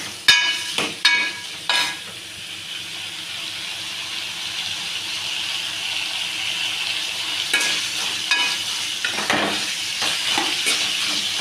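Potatoes frying in oil while being stirred, a continuous steady sizzle with sharp clinks of a utensil against the pan at the start and several more scrapes and knocks near the end.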